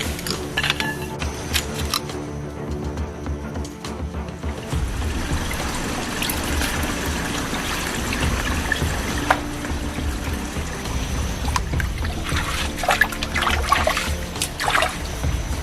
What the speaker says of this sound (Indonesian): Air mengalir dari atas dan sengaja ini saya bendung si aliran air kecil ini